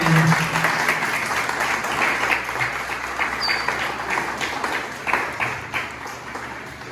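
Applause from a church congregation after a Bible scene is acted out, steady dense clapping holding throughout at moderate loudness with faint voices mixed in.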